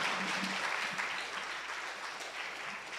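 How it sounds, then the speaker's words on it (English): An audience applauds steadily after a song at a live performance, dense clapping filling the room at a moderate distance with no voices over it. "Let's give another round of applause."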